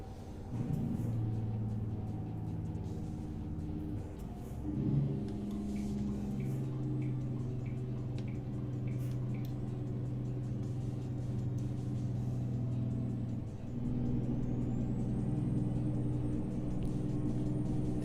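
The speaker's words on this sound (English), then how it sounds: "The nice engine sound, the ear-piercing squeal." A truck engine in American Truck Simulator drones in a steady low rumble, swelling briefly around the middle, with a thin high whine toward the end and no speech.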